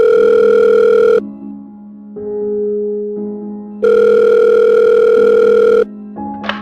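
Steady telephone dial tone during a home call, sounding in long unbroken stretches with short gaps between, loud and close, with no voices over it.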